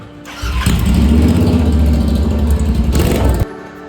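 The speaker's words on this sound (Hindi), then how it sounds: "तो अभी गाड़ी की आवाज सुन लो।" A Royal Enfield Interceptor 650 BS6 motorcycle engine with a Moto Torque aftermarket exhaust catches and roars to a steady, loud rumble up close, then cuts off abruptly after a few seconds.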